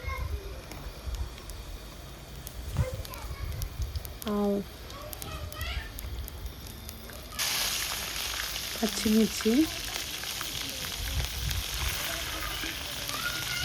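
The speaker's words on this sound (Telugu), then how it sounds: "ఆయిల్ వేడెక్కిన తర్వాత జీలకర్ర కొద్దిగా" Cumin seeds hit hot oil in a pan and burst into a loud, steady sizzle partway through, continuing to the end, with a voice talking over the cooking.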